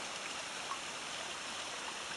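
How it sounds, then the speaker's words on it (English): A mountain river in the Asama range rushes steadily, a continuous broadband wash of flowing water heard alone without any talking, fairly distant and even in level throughout. "all you can hear is the river"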